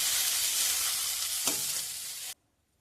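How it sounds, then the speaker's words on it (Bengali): Cabbage leaves frying over high heat in a pan, a steady broadband sizzle with a brief stir or scrape midway, then cutting off abruptly into silence when the pan comes off the heat. "এবার আঁচটা জোর দিয়ে ভালো করে ভাজা ভাজা করে নেব"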